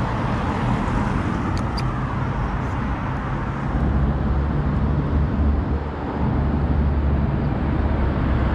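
Road traffic passing through Cookstown town centre, County Tyrone, a constant heavy rumble of vehicles with a brief dip near the end before the drone resumes, alongside faint higher whines.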